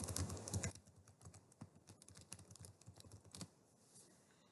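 An email address being typed on a computer keyboard, a quick run of close, light key clicks with a few louder strokes, fairly quiet and without talk.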